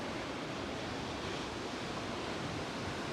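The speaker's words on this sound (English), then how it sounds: "This one's got waves." Ocean waves at a beach near Corny Point Lighthouse on the Yorke Peninsula make a steady, broad roar of surf, with wind noise on the microphone and no clear pauses or voices.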